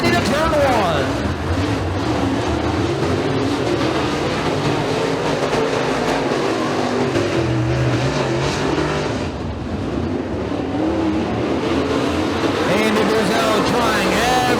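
Race cars thunder around the track during heat races at Bradford Speedway, a loud, continuous engine roar that swells and dips slightly as the pack runs side by side through the turn.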